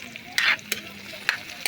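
Bitter gourd (ampalaya) being sautéed, heard as a soft hiss with a few quick stirring and scraping clatters from a utensil in the pan.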